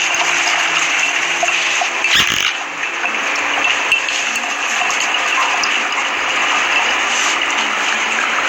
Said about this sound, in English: So we're just adding a little bit of water.